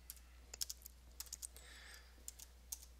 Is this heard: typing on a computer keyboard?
yes